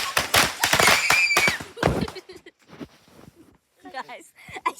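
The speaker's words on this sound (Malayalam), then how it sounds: "നമ്മള് മാലപ്പടക്കാണ് ഗായ്സ് പൊട്ടിക്കാൻ പോണ നെക്സ്റ്റ്" A string of malappadakkam firecrackers bursts in a rapid, loud crackling volley that thins into scattered pops, with voices talking over the later part.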